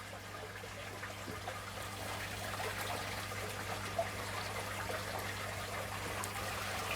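Water trickling and splashing in a baby fish fry tank, a steady, fairly quiet running-water texture over a low constant hum, with one small splash midway.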